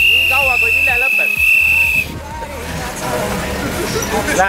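A breathalyzer gives a steady high tone for about two seconds while someone blows into it beside a race track, then cuts off, leaving people talking over crowd noise and passing engines.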